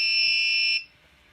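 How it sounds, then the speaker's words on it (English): An Arduino smart door lock's buzzer sounds one steady, piercing high-pitched tone for under a second before cutting off to near silence. "And now it triggers the buzzer"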